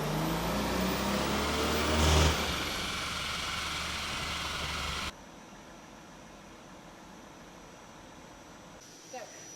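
A Mercedes W124 with an OM606 diesel engine and upgraded clutch accelerating at full throttle, its loud, dense engine roar rising briefly before easing into a steadier, quieter drone that drops further midway.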